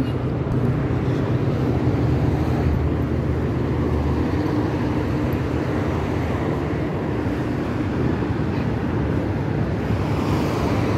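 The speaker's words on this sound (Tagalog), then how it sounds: "Mahangin" Steady, broad rushing wind buffeting the microphone, loud and continuous with a low rumbling roar throughout and no speech.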